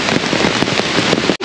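Heavy rain pouring down in Khao Yai National Park, Thailand, a dense, loud, close hiss and patter, as if drumming on an umbrella, broken by a brief dropout near the end.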